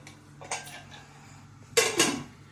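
Cabbage sabji stirred in a pan, with the spoon clattering against the metal in two short bursts of scraping and knocking, the second louder and longer.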